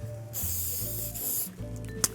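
A few bursts of hairspray hiss close by, broken by short pauses, with a sharp click near the end.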